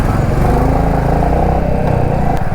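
A motorcycle rides a mountain road entering Himachal during the monsoon, its engine giving a loud, close, steady rumbling drone with rattling texture throughout.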